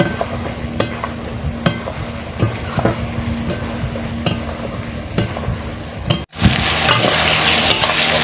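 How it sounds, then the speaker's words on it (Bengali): Mutton frying with spices in a pan gives a steady, close sizzle with scraping stir strokes at regular intervals, broken by a brief drop in sound before the sizzle swells louder and brighter. "আমি ভালো করে মাংসটা মশলার সঙ্গে কষিয়ে নেব"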